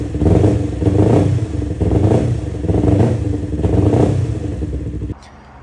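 A Yamaha R3 motorcycle engine with sluggish power, revved with repeated throttle blips, loud and close, swelling in four or five pulsing waves before dropping to a lower idle at the end.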